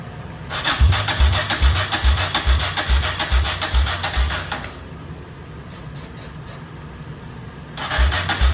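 A Yamaha XT600 motorcycle's electric starter cranks the engine in a rhythmic chugging burst of about four seconds, stops, then a few clicks follow before a second short cranking burst at the end; the engine never catches.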